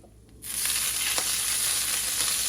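Beef broth hitting a hot skillet of meatball drippings sets off a sudden loud, steady sizzle after a brief quiet moment, holding strong and even to the end.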